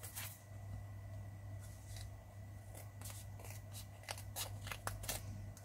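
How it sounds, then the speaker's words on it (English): Scissors cutting palette material into smaller pieces while making a tiny watercolor sketchbook: a quiet series of short, crisp snips and crunches that come more often toward the end, set against a low steady hum. "So I'm gonna just get my scissors and just cut them smaller"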